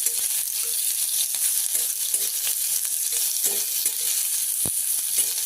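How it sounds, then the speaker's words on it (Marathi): Onion roasts in a pan with a constant loud, bright sizzle and crackle, broken by occasional stirring scrapes and one sharp knock, close and without speech. "कांदा चांगला लाल होईपर्यंत चांगला भाजून घ्यायचा"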